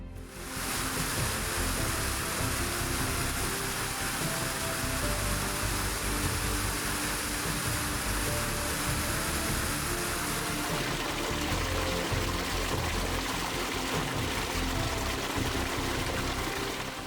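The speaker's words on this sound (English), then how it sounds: "around 20 waterfalls pour down moss-covered cliffs into a quiet" Some twenty waterfalls at Porto da Alagoinha pour down moss-covered cliffs into a quiet lake, making a steady, dense roar of falling water that holds at an even loudness throughout, with no voices.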